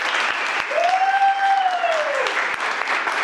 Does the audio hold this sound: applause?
yes